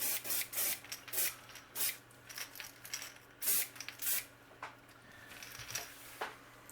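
Short hissing bursts of pearl paint sprayed from an airbrush onto a koi-patterned crankbait lure, coming in irregular puffs with brief gaps between them, close and fairly quiet.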